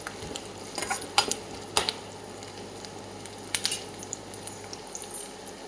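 Ginger and onion stir-fried in a pan for a potato stir-fry, with a spoon scraping and clinking against the pan in scattered strokes over a low, steady sizzle.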